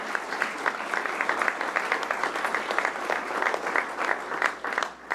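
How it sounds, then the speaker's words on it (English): A seated audience claps steadily for a panel of speakers at an evening community forum, a dense, even round of applause that holds at moderate loudness for about five seconds without pause. "Let's give our panelists a nice round of applause"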